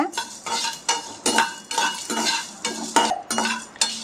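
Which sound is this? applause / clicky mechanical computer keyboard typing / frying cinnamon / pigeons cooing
frying cinnamon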